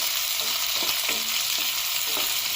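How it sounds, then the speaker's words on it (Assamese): Chopped onions fry in oil for a jackfruit masala sabji, giving a continuous, even sizzle with faint, soft stirring knocks. "পিয়াজখিনি অলপ ভাজি লম"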